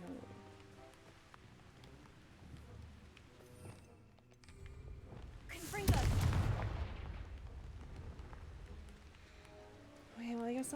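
A Confringo fire spell explodes in Hogwarts Legacy, one sudden blast about halfway through that lingers briefly over a quiet game soundscape.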